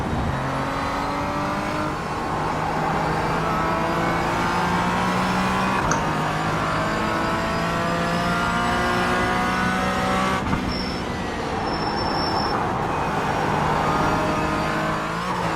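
Race car engine in a sim racing game, loud and continuous, revving with gear changes and downshifts, occasional tire squeal as it exits a corner with ABS and traction control active.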